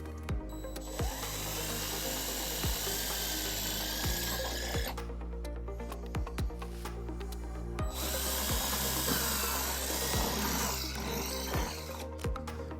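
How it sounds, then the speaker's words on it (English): A power drill with a quarter-inch bit whirs steadily while boring into material, pausing briefly in the middle before starting again, loud and close, with no talking. "we're going to use a 1/4 inch drill bit, and we're going to drill our first hole"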